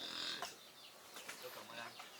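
Chickens in a large flock on a small farm, a few faint clucks and short calls scattered over a soft background, distant and low in level, with no clear speech.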